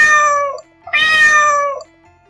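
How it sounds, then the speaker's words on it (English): A cat meows twice, two clear drawn-out mews close to the microphone, separated by a short pause. "C for cat."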